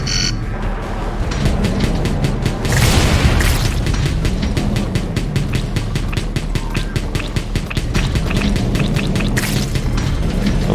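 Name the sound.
missile explosions in video game Wall World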